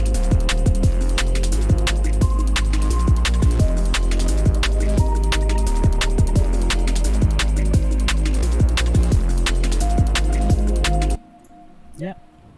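A piano patch in FL Studio layered with a shimmering variation of the same piano, playing a steady, full chordal pattern with regular rhythmic hits that ends abruptly near the close.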